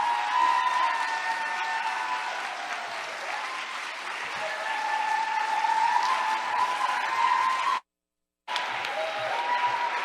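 Sustained audience applause with some cheering fills the room after a musical performance at an annual celebration gala, steady and dense, broken by a brief drop to silence near the end before the clapping resumes.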